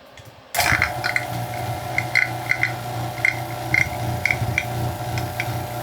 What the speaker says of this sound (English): we're going to turn my vacuum pump on